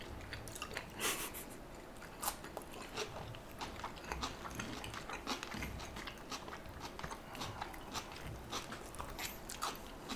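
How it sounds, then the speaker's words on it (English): Close, wet chewing and biting on a crunchy sushi roll, steady crunches and squishy mouth sounds repeating for several seconds with no talk. "Trying the caterpillar roll."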